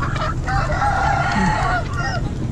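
Rooster crowing at a Hmong New Year festival market where chickens and ducks are sold; one long crow rises over a loud, steady crowd and low rumble, with other fowl calls around it.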